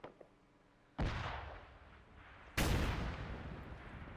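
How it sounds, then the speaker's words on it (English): A grenade goes off in the military shooter Arma 3, starting with a sharp, heavy blast and a rumbling tail. A second, louder detonation follows, and both leave a long, roaring reverberation. "Let's go with the grenade."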